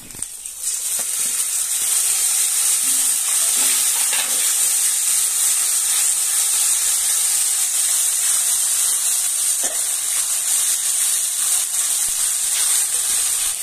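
Onion frying with ginger-garlic paste and tomato paste in a pan for a Bengali rohu fish kofta curry, a steady loud sizzle and hiss throughout with occasional faint stirring clatter.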